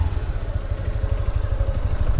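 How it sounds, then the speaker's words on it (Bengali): A motorcycle engine thrums close by with a fast, steady low pulse as the bike rides into a narrow lane. "যেহেতু বাইক নিয়ে এসেছি আজকে, সেক্ষেত্রে আমরা এই রাস্তাটা ঢুকছি ভিতরে।"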